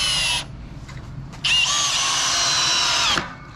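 A power drill drives screws into a wooden jig built to hold a 4x4 post. It sounds in two close, loud bursts: a short whir, a pause, then a longer sustained run that winds down.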